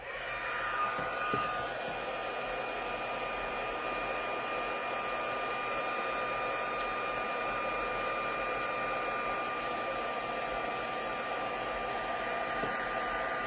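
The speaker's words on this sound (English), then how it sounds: "Turn on the heat tool again." A heat tool used for heat embossing powder on handmade cards blows steadily, a constant whirring hiss with a faint tonal whine, close and unbroken for over thirteen seconds with no speech.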